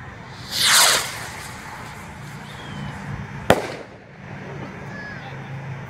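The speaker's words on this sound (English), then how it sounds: "we got the large Space Jam rocket" A large Space Jam sky rocket firework launches with a loud rising whoosh, then a single sharp crack bursts overhead a few seconds later, with faint crackle and distant outdoor ambience around it.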